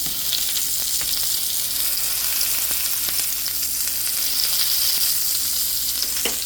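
Hamburger meat sizzles and fries in a hot pan, a steady close crackle with occasional sharper pops and faint stirring scrapes.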